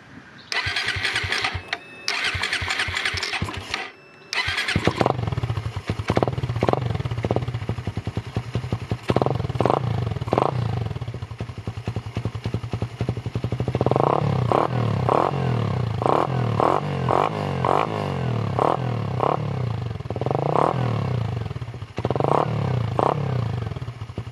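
A Raider 150 Fi motorcycle cranks with starter chatter and several short tries, then catches and settles into a steady idle, with throttle blips later on.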